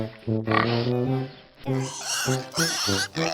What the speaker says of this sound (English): Pig baby is piglet.